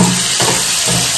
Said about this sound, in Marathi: इथे कांदा बघू शकता फ्राय वगैरे ठेवलेला आहे